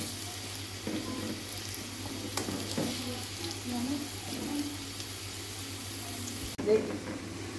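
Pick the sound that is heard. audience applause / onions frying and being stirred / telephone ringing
onions frying and being stirred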